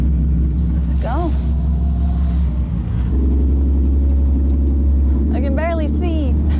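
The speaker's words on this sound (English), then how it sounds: "So now that it's started, I first have to put it in neutral before I put it in drive." Golf GTI concept car running with a loud, steady low engine rumble close inside the cabin, rising slightly as it pulls away, while people talk over the drone.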